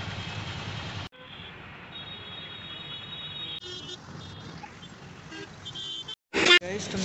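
Heavy Gurgaon traffic drones with idling engines, and a car horn honks in short loud toots near the end, amid background voices.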